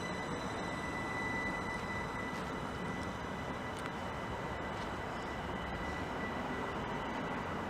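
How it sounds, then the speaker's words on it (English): A Great Western Railway train on the 1322 service from London Paddington to Reading pulls out of Maidenhead station, giving a steady, loud rumble of wheels and engine that stays constant throughout, with no voices. "This is 2 Romeo 37, the 1322 Great Western Railway service to Reading from London Paddington. And this is now departing on its next stop"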